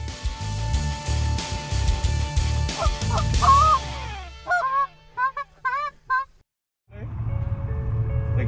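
White-fronted geese, known as specklebellies, call in a flock during a waterfowl hunt on a private island, their high honking yelps rising over a low motor rumble, then a clear run of repeated calls before the engine noise returns.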